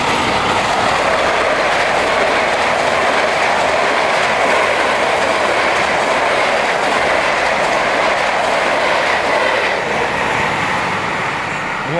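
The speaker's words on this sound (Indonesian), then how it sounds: "Ada kereta lewat." A train rolling past on an active railway line at a level crossing, a loud, continuous roar of wheels and cars with faint clacking, steady and close throughout.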